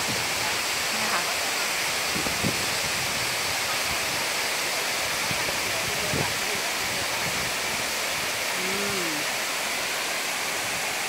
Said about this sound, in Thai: น้ำไหลมาจากด้านบนเลยนะคะ